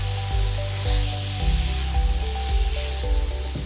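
Ground turkey kheema fries on a medium-high stove while it is stirred in the pan. A loud, close hiss runs throughout, with a low rhythmic scraping and churning repeating about every half second, and no one speaks.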